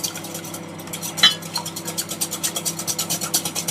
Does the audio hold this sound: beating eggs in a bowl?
yes